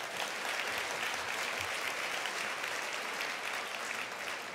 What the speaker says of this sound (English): A big round of applause for all those partners.